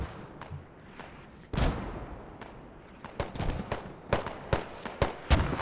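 Mortar fire in the tactical shooter Squad during a competitive match: a heavy blast is followed by a series of sharp, booming impacts a little apart, loud over a rumbling battlefield.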